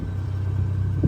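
A 2024 Ford F-150 Raptor idles with a low, steady rumble, close and even, plus a faint slight swell at the very end.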